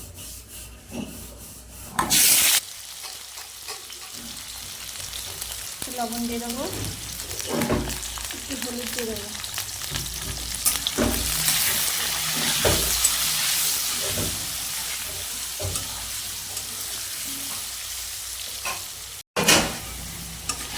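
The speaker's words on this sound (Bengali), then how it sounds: "এবার আলুগুলো ভেজে নেবো" Potatoes frying in oil in a kadai, a steady sizzle with occasional scraping and stirring, while someone talks over it throughout.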